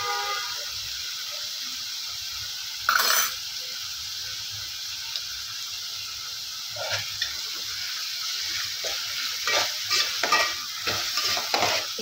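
Ginger-garlic paste frying in a pan with onions for a dhaba-style egg masala curry, a steady sizzle running throughout, broken by a few louder scraping stirs of a spoon near the start and later on.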